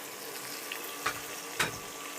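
Fish fries quietly in a pan after sautéing, a faint steady sizzle with two short, sharp splashes or clacks about half a second apart.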